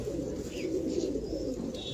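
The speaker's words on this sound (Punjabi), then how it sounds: "ਦੇਖੋ ਕਬੂਤਰ ਦਾ ਖੁੰਦਾ।" Pigeons in a loft, a steady low murmuring coo running continuously and fairly close, with a faint higher chirp near the end and no speech.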